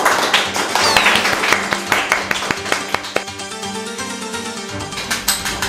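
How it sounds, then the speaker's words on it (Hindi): Children clapping in a classroom, a run of sharp, uneven claps close by over a steady background, with brief voices mixed in. "ताली बजाओ ताली बजाओ"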